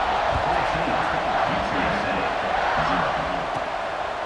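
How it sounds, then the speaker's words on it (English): Stadium crowd noise from the college football video game EA Sports College Football 26, a loud, continuous roar filling the whole stretch with a steady, dense murmur. "this crowd is buzzing after that last score"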